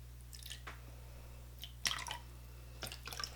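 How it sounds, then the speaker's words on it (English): Fragrance oil poured in small amounts into several colored batches of cold process soap batter, giving soft, brief wet drips and squishy splashes in a few separate bursts, close and quiet with no talk. "now I'm going to quickly kind of pour just a bit of this fragrance oil into each of the"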